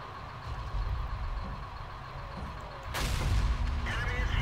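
A tank cannon shot in World of Tanks with an M36 Jackson, a low engine rumble followed by one sharp, loud blast about two-thirds through and its trailing boom.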